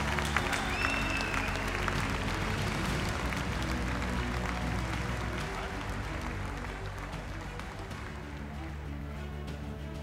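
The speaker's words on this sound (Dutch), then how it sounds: "dat applaus mag luider, dat applaus mag harder" Sustained, dense crowd applause fills an arena at a Dutch stallion inspection for a champion stallion, a steady loud wash of clapping that tapers slightly toward the end, with faint voices mixed in.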